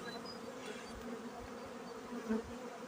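Honeybees in an opened winter hive give off a steady, dense buzzing hum, close and continuous, with no talking.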